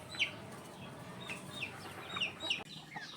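Chickens and cockerels in a fly pen cluck in short, repeated calls, several spaced over a few seconds, fairly faint against a low rumbling background.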